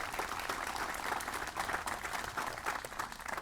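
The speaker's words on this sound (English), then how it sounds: "Please give them a round of applause as well." An audience at a Memorial Day observance applauds, a dense, steady wash of clapping held at an even level from start to finish with no voices over it.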